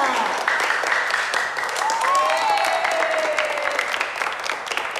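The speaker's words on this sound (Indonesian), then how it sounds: "Mana tepuk tangannya?" Applause from a group in an Indonesian setting plays over the whole stretch, fairly loud and continuous, with voices and a rising whistle-like tone mixed in above the clapping.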